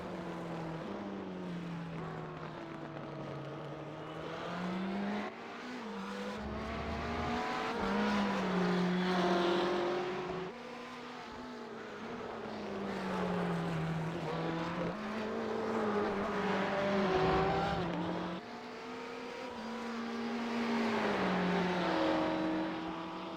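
GTE race cars on the final lap of a video game race at Montreal, engines droning and sweeping up and down through gears in repeated cycles, moderately loud and steady throughout.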